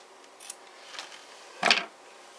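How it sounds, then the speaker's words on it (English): Scissors cut through a length of elastic during a paper-craft project, making a few faint snips and then one sharper, louder crunch of the blades near the end, in an otherwise quiet room. "I'm going to cut my elastic at 10"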